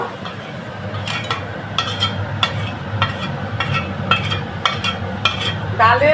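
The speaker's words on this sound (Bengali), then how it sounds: "এই মশলাটা কষানো হয়ে গেছে, এবার আমি ডালের মধ্যে ছেড়ে দেব।" Fried spice masala cooked in ghee is tipped into a pot of dal and stirred, with rhythmic spoon scrapes and clinks against the pan over a soft sizzle, close by.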